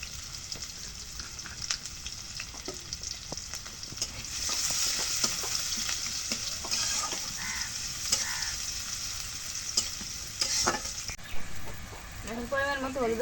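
Curry sizzling and frying in hot oil with steady crackle and occasional stirring scrapes, close by; a chicken clucks faintly in the background near the end.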